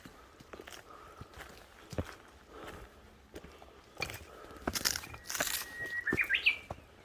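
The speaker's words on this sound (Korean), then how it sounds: "어디서인지 새소리 들어보세요." Out on a mountain trail on Cheongwansan, footsteps crunch and shuffle, then a bird's short, bright chirps and trills break in near the end, fairly faint against the quiet outdoors.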